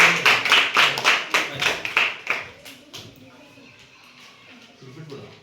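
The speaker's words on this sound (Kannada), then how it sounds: "ಚಪ್ಪಾಳೆ ಮಾಡಿ." Students in a school classroom clap together in a quick, even rhythm, about eight sharp claps close by, then fade into a quieter room.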